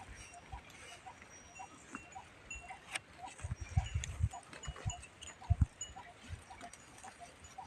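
Outdoor pasture ambience of grazing sheep and cows with scattered animal movement, soft thuds and faint bleats, plus a cowbell-like clink, distant and quiet.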